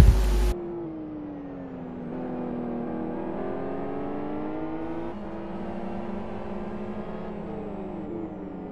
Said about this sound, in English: You can hear engine sounds.